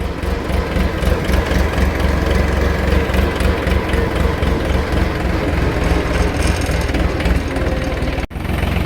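A tractor engine runs close by at a steady pace, a loud continuous low rumble with a regular throb, cutting off abruptly for a split second near the end.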